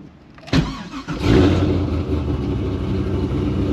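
A Pontiac GTO with a manual transmission cranks and fires up with a sharp burst, then settles into a loud, steady running rumble close by, with no voices.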